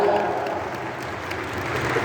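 Audience applause at the Axo Matsuri convention greets a Mexican voice actor, a steady wash of clapping from a crowd that holds an even level throughout.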